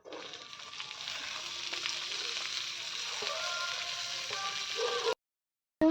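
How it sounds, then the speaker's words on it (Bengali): Carrots, capsicum and beans fry together in hot oil in a wok, giving a steady, close sizzle that runs unbroken for about five seconds before stopping abruptly. "গাজর, ক্যাপসিকাম, বিমগুলো একসাথে ভেজে নিচ্ছি।"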